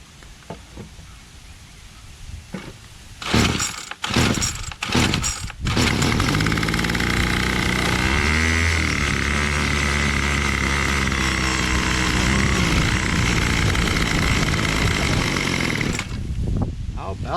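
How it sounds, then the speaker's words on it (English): A free Bolens MTD BL-160 25cc weed trimmer has a low-compression, easy pull and starts on half choke. Its two-stroke engine catches after a few sputtering pulls, then runs loud and steady with a buzzing, revving drone close by. "So it was like half choke it started."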